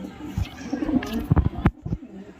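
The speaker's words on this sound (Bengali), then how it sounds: "হাজারওয়ালা পায়রা, পিওর পায়রা, দেখো ব্রিডিং পায়রা" Breeding pigeons at a market sale coo in a few low, throaty bursts close by, overlapping one another amid background crowd murmur.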